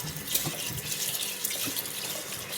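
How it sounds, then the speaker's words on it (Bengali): Rice is washed under a running kitchen tap, a steady hiss of flowing water with small splashes and stirring sounds close by, continuous for a few seconds without speech. "এখানে চাল ধুয়ে নেব, চালটা ভালো করে পরিষ্কার করে ধুয়ে নেব।"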